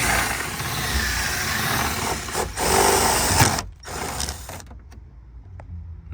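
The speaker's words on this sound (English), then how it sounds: "I usually like to drill a small hole and take it off" A small power drill whirs steadily while boring a hole near the dashboard of a Chevrolet Tahoe/Silverado, a continuous motor and bit noise that dips and stops near the end.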